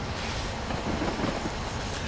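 The Flying Scotsman steam locomotive passes on the London to Brighton line, a close, continuous rumbling roar with rattling rail noise that fills the whole stretch without a break.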